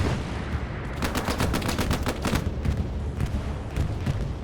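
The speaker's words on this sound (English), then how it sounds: "As we hear a strafing run come on through." Strafing run in a multiplayer war video game: rapid bursts of automatic gunfire rattle past in dense, repeated volleys over a continuous loud roar, with no talking.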